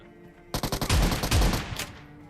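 Automatic gunfire in PUBG Mobile finishing off knocked-down enemies: a rapid string of loud close shots, then two heavier sustained bursts and a final shot, with no talk.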